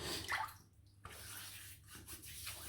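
Lukewarm water splashes from a basin onto a face to wet stiff whiskers before a safety-razor shave, giving a few soft, close, quiet trickles and splashes.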